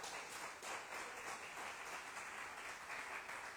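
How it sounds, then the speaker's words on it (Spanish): A church congregation gives steady, sustained applause, dense clapping with no break, heard from some distance. "Den un fuerte aplauso al Señor."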